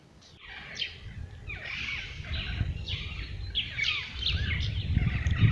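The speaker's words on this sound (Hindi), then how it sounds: "बिल्कुल शांत, बस पक्षियों का शोर" Birds call beside a quiet, secluded river island, repeated chirping phrases rising over a low steady background rumble, moderately near with no voices.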